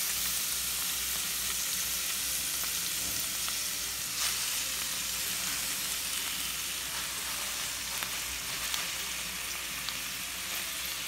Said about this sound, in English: Now I'm going to add half of the spinach and let that cook down.